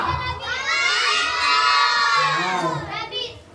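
Children shouting together at a birthday party, a loud burst of excited cheering that swells and holds, then breaks into a second shorter shout, with an adult urging them on.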